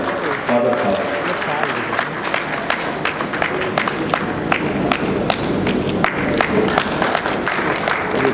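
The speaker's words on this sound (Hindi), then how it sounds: "तालियां तो धीमी हो जाती है" Sustained audience applause at a welcome gathering in Gorakhpur. The clapping is dense and steady, with sharp individual claps standing out from the crowd, and it stays loud for the whole stretch.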